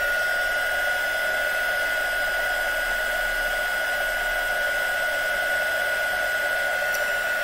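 Heat gun blowing on embossing powder at a craft table, a loud, steady hair-dryer-like roar with a constant whine, running without pause.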